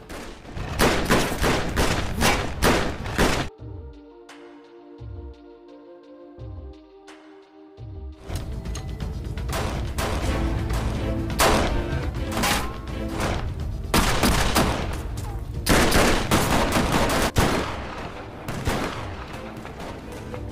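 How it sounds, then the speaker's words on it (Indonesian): Dense bursts of gunfire crack and boom through a gangster movie shootout, with rapid volleys and loud shots, a brief quieter gap with tonal music, then sustained heavy firing. "tiba-tiba ada orang menembaknya, yang tak lain mereka ada Xiong and the gang"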